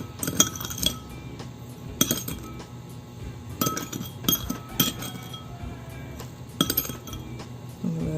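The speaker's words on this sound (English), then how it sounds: "We need to get a spoon and scoop it here." A spoon clinks and scrapes against a container while scooping white sugar for measuring, giving sharp, irregular metallic taps and rattles spread across the clip over a quiet background.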